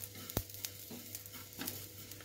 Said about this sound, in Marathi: कराळ लगेच भाजते, जास्त वेळ लागत नाही कराळा भाजायला